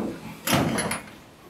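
Knocking on a door: a loud thump followed by two quick, sharp raps, close by and without speech.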